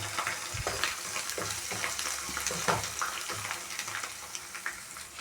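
Potatoes fry in a pan with turmeric and ginger paste in a Telugu home kitchen for a potato-tomato curry, a loud, steady sizzle with stirring scrapes over it, close and continuous with no talk.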